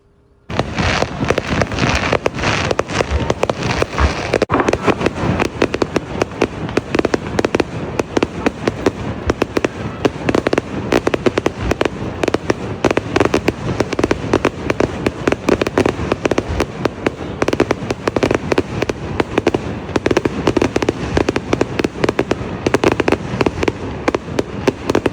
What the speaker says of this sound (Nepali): त्यति नै खेरि अब सुरु भयो पटका पड्काउने काम